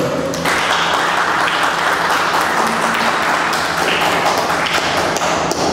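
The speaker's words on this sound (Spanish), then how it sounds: "Pido un fuerte aplauso de bienvenida para el doctor." Warm applause greets a guest speaker at a literary lecture event, a full, continuous burst of clapping from a seated audience, loud and steady throughout with no speech over it.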